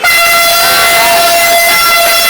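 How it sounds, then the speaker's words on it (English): Truck air horns honk at the 2013 Monza Formula 1 race, one loud sustained blaring blast held without a break and close by. "I got these trucks to honk"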